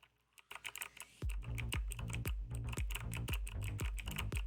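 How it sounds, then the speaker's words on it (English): A clicky mechanical computer keyboard with blue switches is typed on in a quick, irregular run of sharp, close keystrokes, starting light and then settling into steady rapid clicking. "you'll hear click, click, click, click, click, click. This going on in the background. That's me. Absolutely. That's my keyboard."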